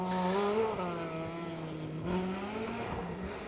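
A rally car on a gravel stage revs hard with a rising, falling engine note as the driver shifts down and accelerates, heard from a moderate distance with faint scrabbling of tyres.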